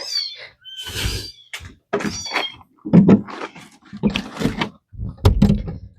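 Tiny farm kittens shut behind a door, several high meows in quick succession with thumps of the door between them, close and loud.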